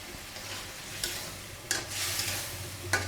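Small pieces of meat frying in a spice masala, a constant moderate sizzle with occasional scraping stirs and clinks close by.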